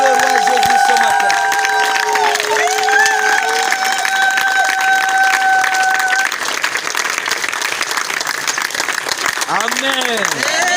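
Church congregation cheering and clapping throughout, a dense crowd roar with a voice and sustained tones over it.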